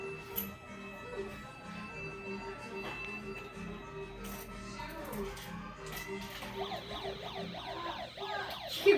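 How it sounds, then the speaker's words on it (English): Emergency vehicle sirens wail in the background under a cluttered mix of radio-like sound and voices, with rising and falling tones growing more prominent in the second half. "Make the audio sound better with the wee-woo sirens."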